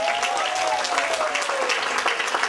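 Steady audience applause at a church testimony gathering, with a faint tone sliding beneath the clapping throughout.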